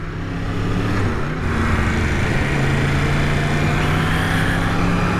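A 2020 Yamaha MT-10 super naked motorcycle rides along damp country roads, its engine a loud, continuous drone that rises in pitch as it pulls, with steady wind and road noise underneath.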